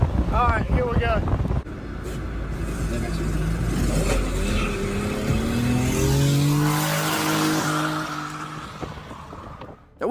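A car being driven off the back of a truck: a steady engine drone with rising revs and wind buffeting, loud and close throughout, with a voice briefly heard at the start.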